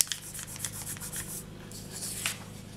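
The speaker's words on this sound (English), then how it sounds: "And just press nice and hard and burnish." Mica powder is burnished into polymer clay with firm pressure, producing close, dry rubbing strokes in a steady back-and-forth rhythm with no talking.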